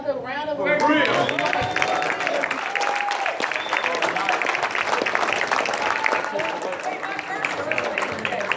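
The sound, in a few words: audience applause for Brother Polight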